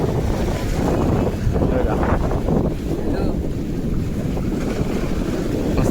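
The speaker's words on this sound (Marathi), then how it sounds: "पाणी वगैरे येऊन दगडांवर धडकतंय." Sea waves surge and crash against rocks at Mandvi Beach in Ratnagiri, a loud rolling wash mixed with gusty wind noise while someone talks over it.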